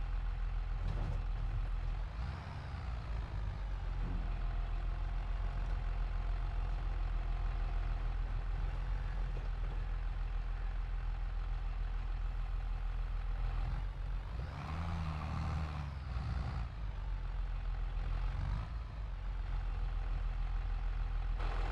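A tractor engine idles in Farming Simulator 22, a steady low diesel rumble running continuously with a brief surge of heavier mechanical noise partway through, with no talking.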